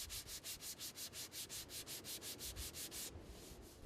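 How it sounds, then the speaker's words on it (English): Rapid, steady back-and-forth rasping of 80-grit abrasive paper on a fibreglass boat hull repaired with epoxy, about five strokes a second, close and continuous before easing into a softer hiss. "I'm going to use a sanding machine with 80 grit paper on here"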